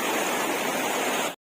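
Devkund waterfall on a monsoon trek roars as a dense, steady rush of falling water, loud and close, cutting off abruptly at the end.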